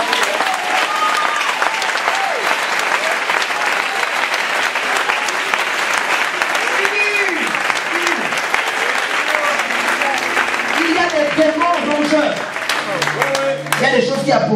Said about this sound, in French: Est-ce que tu peux acclamer pour ça?